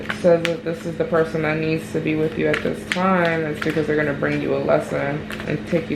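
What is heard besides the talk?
None of the usual background noises is heard.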